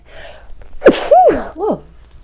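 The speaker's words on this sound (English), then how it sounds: "I'm gonna sneeze." A single loud, close sneeze bursts out with a sharp onset and a rising-falling voiced tail, followed by a brief breathy exhale, alone with no talk.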